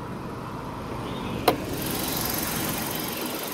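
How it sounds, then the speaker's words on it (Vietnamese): A 2011 Hyundai Avante with automatic transmission idles smoothly and quietly at close range, a steady low hum with one brief sharp click partway through. "máy nổ êm du"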